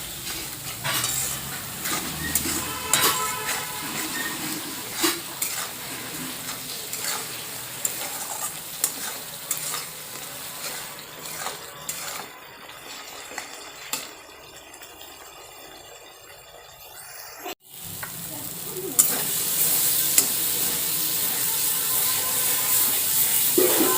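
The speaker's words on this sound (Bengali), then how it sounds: "একসঙ্গে মশলা খুব ভালোভাবে কষিয়ে নেব।" Spices with salt and Kashmiri red chilli powder are stir-fried in a pan for a fish curry, a continuous close sizzle broken by scraping stirs, dipping quieter midway before a loud, steady hiss returns.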